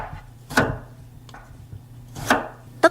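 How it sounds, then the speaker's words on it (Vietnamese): Knife slicing a luffa gourd into rounds about 2 cm thick on a cutting board, three crisp separate chops spaced unevenly, close and fairly quiet, with no talk. "Bây giờ thì mình cắt mướp ra thành khoanh, độ dày khoảng 2 cm."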